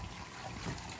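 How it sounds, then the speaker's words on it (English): Water trickling and splashing from a houseboat's bilge pump outlet at a Lake Powell marina, a steady low wash heard faintly at a distance without any voices. "I think every one of these walked by are literally pumping out the bilge."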